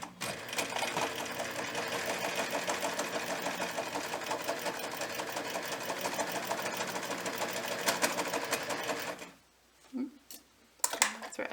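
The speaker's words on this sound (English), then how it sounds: "I'm going to sew around this way, following the outline of my pumpkin." A sewing machine stitches around the outline of a fabric pumpkin pot holder, running in a steady, loud mechanical rattle for about nine seconds, then stopping, followed by a few quieter handling clicks.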